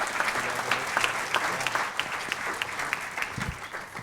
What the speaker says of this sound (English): give everybody from Animal Science a big round of applause